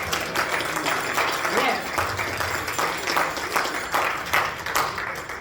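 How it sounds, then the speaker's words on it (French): Audience applause at a Lions Club lottery draw, a steady wash of clapping from a crowd in a hall, sustained and fairly loud throughout, with some voices mixed in. "une bonne main d'applaudissement."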